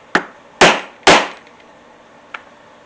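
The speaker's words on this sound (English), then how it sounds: "Punch a hole in there." A leather punch is hammered through a leather strap in three sharp, close blows, the second and third loudest and ringing briefly, followed after a pause by one faint light tap.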